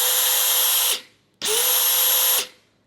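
A DeWalt DCF870 hydraulic impact driver runs in its second, faster speed mode: two steady, loud whirring bursts of about a second each with a short pause between, spinning up sharply and winding down. No voices.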